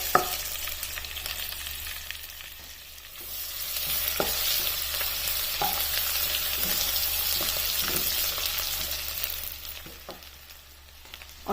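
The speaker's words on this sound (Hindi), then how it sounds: "अब इसमें लहसुन और अदरक का पेस्ट डाल देना है।" Garlic ginger paste frying in butter and oil, a steady bright sizzle with occasional spoon stirs and clinks against the pan, close and continuous with no voices.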